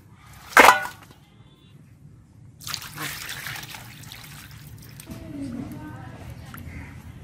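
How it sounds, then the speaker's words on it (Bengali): Sorputi fish being rinsed with water: a sharp clatter at the start, then continuous splashing and trickling water up close, with a faint voice in the background. "এখন আমি মাছগুলো ভালোভাবে ধুয়ে নিব"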